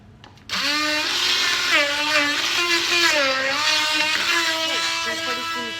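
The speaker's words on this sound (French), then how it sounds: "Et on va venir mixer le tout." A blender kicks on after a brief moment and whirs loudly and steadily through strawberries, lemon juice and sugar, its motor whine wavering in pitch as the mixture churns, with no talking.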